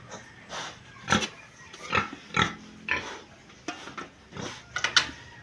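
A sow grunts in a farm pen fitted with bamboo: about eight short, loud, raspy grunts at irregular intervals, close by, with quiet gaps between them.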